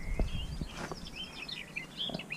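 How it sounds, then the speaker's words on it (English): Recorded birdsong plays from sensor-triggered fake birds in a small hut at the Botanic Gardens in Oslo: bright chirps and warbles over a faint background, with a few soft footsteps. "fake bird music coming down."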